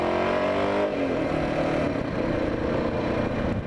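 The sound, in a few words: 1979 Yamaha XT500 motorcycle engine revving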